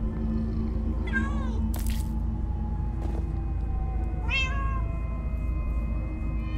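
Cats meow in the video game Minecraft: Story Mode, two clear rising-falling meows a few seconds apart over a low steady game ambience, with a brief burst of noise between them.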